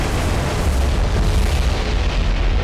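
Bombs burst on ships in the naval video game War on the Sea, a loud continuous low rumbling roar of explosions filling the whole moment without any voices.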